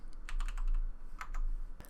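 Computer keyboard keys are pressed for hotkey shortcuts, a handful of crisp clicks in two quick clusters, close up against a low steady background hum.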